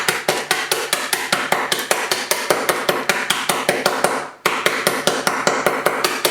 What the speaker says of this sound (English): grab a rolling pin or a little hammer if you have one, and then we're just going to start tapping this gently